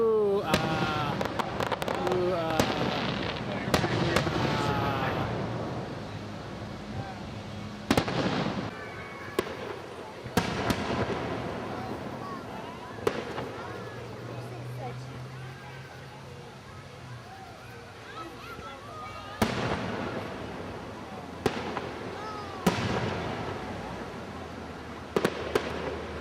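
Fireworks burst over a town on a July Fourth night in Gatlinburg, with repeated booms and crackles at middle distance under a steady crowd murmur and nearby voices chatting.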